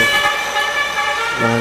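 A basuri telolet musical horn on a truck sounds continuously and loudly, its sustained multi-tone blare shifting to a new note near the end, with vehicle rumble underneath.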